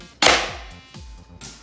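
An airsoft pistol fires at a homemade target: one sharp, loud snap with a bright impact crack, followed by two softer clicks or taps spaced about a second apart, with no talking.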